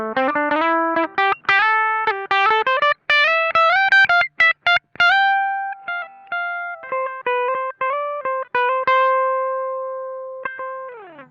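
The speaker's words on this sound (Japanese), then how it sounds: "印象としては非常にね、ガッツのあって強い歪みなんですけど" Electric guitar played through a BOSS BD-2W Blues Driver overdrive pedal, with a run of gritty, strongly driven notes and chords, some short and choppy, ending in long sustained tones, loud and solo.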